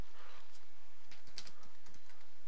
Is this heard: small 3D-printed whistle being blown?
no